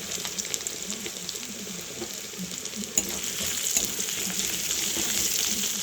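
Nigella seeds and garlic fry in hot oil in a kadai, a steady close sizzle with scattered pops and light stirring scrapes, a sharp click near the middle, no talking.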